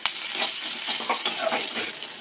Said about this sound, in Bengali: এর মধ্যে দিয়ে দেবো পেঁয়াজ কেটে রাখা, ক্যাপসিকাম দিয়ে ভালো করে ভেজে নেব